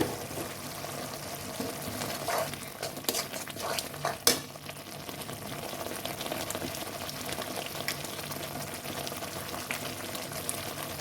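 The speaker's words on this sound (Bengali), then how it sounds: "মশলাটা ভালোভাবে কষিয়ে নেব।" Ground spices, chili powder and coriander powder stirred and fried in a pan for a Bengali crab curry, a steady continuous sizzle with scraping spoon strokes and a sharp clink near the middle, close and loud, no talking.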